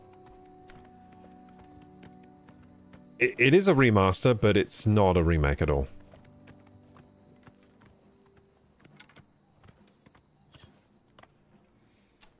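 Horse hooves from the video game Oblivion Remastered clop sparsely and faintly as a rider travels, with someone talking loudly over them for a few seconds midway.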